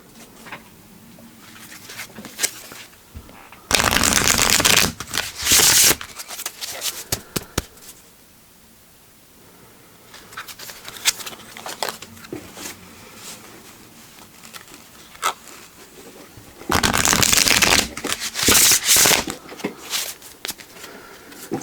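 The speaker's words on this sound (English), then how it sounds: "I just want to make sure that the deck is fully shuffled." Tarot cards with a smooth matte finish being shuffled in bursts, riffled in rapid fluttering sweeps with softer handling and tapping between, close and clear.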